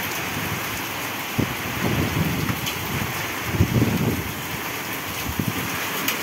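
Torrential rain hammers down in a prolonged thunderstorm with wind and scattered hail, a loud unbroken roar of water on surfaces with low rumbling swells and occasional sharp impacts.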